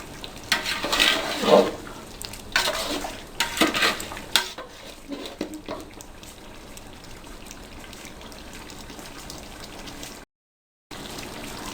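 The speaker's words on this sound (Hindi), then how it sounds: "गाजर को हमने सिर्फ चंद सेकंड के लिए फ्राई करना होगा।" Carrots fry briefly in a pan for a tikka masala pulao, with loud stirring scrapes over a crackling sizzle at first, then settling into a steady, softer sizzle.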